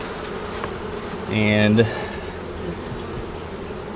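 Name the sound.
honeybees buzzing at an open beehive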